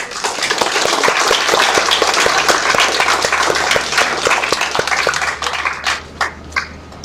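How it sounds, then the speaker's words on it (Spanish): A university audience claps loudly to welcome a speaker at an anticorruption panel discussion. The applause is thick and continuous at first, then thins into scattered individual claps near the end. "Recibamos al maestro con un fuerte aplauso."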